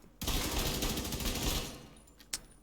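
Carbine fire in The Division 2: a dense, sustained burst of rapid shots runs loud for well over a second, then stops, with a couple of isolated sharp cracks and faint high tones trailing after.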